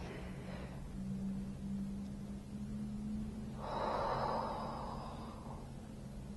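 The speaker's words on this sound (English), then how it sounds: "I'm going to ask you to draw that belly breath in" A deep belly breath drawn in during an anxiety management exercise, a close, soft breathy hiss that starts quietly and swells into a longer, fuller inhale in the second half, over a faint low hum.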